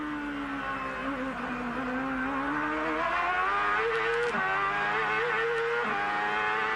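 Ford- and Honda-powered IndyCar race cars scream at full revs on the Surfers Paradise street circuit in 1997, a continuous loud engine howl with pitch rising and dropping through gear changes.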